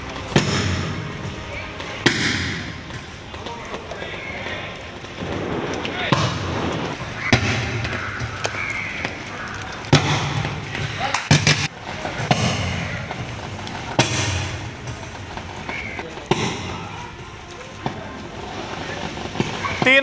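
An underground power cable in Anna Nagar, Chennai, shorts out in rainwater with repeated sharp explosive bangs and crackling bursts every couple of seconds. The bursts sound over a noisy outdoor background, with voices in the mix.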